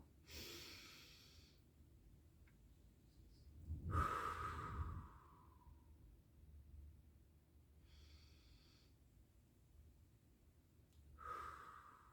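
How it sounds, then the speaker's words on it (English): Slow, quiet breaths for a square breathing exercise: a soft inhale, a long drawn-out exhale with a faint whistle, a pause, then another gentle breath in and out, close and alone. "let's see if we can breathe with our square breathing"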